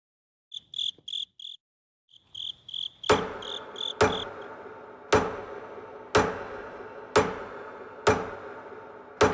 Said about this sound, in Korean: 망치질 소리에 저는 정신이 들었어요